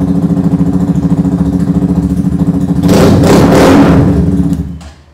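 Kawasaki Ninja 250cc replica motorcycle engine idling with a steady thrum, then blipped into a louder revving burst before it shuts off and fades out.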